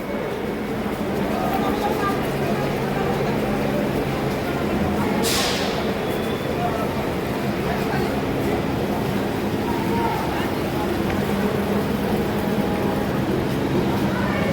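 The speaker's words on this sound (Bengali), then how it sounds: "তিন নম্বর প্ল্যাটফর্মে ট্রেনটা দেবে ট্রেনটা সবে ঢুকছে" Santipur local train pulling into platform three at Sealdah station, a loud continuous rumble of the train and station noise throughout, with a brief hissing burst near the middle and people talking in the crowd.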